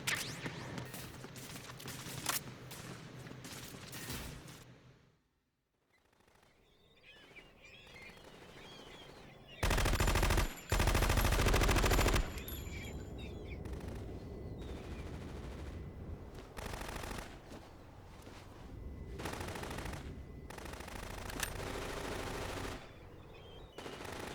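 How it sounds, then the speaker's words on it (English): Gunfire in a Metal Gear Solid 2 boss fight: sustained rapid automatic bursts, loud and dense, with a brief lull near the start and a heavy blast midway. "when you're firing so many shots at her, you'd give up at this point"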